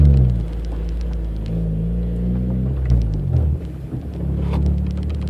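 A Honda engine with a bigger exhaust pipe is blipped and revved in a deep, rumbling interior recording, with rising and falling pitch sweeps as revs are matched through gear changes, close and steady throughout.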